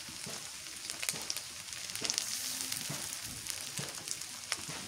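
Garlic paste fries in a pan with onion and green chili for a fish curry with jackfruit seeds and drumstick leaves, giving a steady, close crackling sizzle with sharp pops throughout and no talking.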